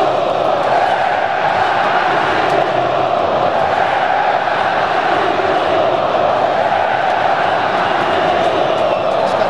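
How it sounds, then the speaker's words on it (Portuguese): Atlético MG supporters fill the stadium with their famous chant during a 2016 Copa Libertadores match against São Paulo, a loud, dense roar of massed voices that holds steady throughout. "o grito mais famoso de uma torcida no Brasil"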